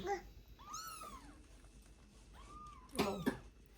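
A cat meows several times at close range, a few drawn-out calls spread over a few seconds with a louder pair near the end, against a quiet indoor background without talk.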